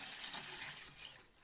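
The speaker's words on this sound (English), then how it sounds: "the reason I'm pouring it into the jug first is because it's much wider" Ivy-based homemade laundry detergent, dark green, poured into a wide jug, a short, faint, gurgling liquid pour that trails off near the end.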